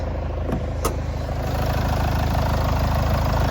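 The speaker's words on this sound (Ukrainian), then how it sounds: "двигун працює рівно" A Citroen C-Crosser with a 2.2 diesel engine idles evenly, giving a steady low rhythmic throb close up with a faint high whine and no talking.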